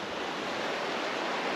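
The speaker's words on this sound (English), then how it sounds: "So this is the Green River," The Green River at Flaming Geyser State Park flows in a steady, faint, broadband rush of moving water, even and unbroken, with no voices.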